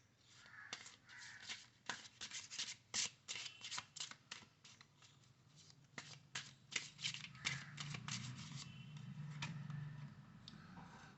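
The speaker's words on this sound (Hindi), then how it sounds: "तो मैं 3 कार्ड और निकालती हूँ" Tarot cards are shuffled and drawn by hand, giving a quick series of sharp riffling snaps and flicks close up, faint overall, with a low murmuring background toward the end.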